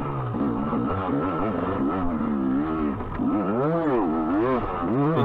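A dirt bike engine on a motocross track revs and throttles continuously, its pitch rising and falling in waves, loud and close with a raspy buzzing tone throughout.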